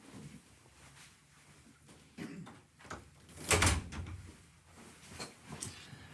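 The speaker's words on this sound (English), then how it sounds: "I am going to just close my door for 1 second" A room door swung shut and closed, one fairly loud thud with a brief rattle standing out from quieter handling noises and shuffles before and after, no talking.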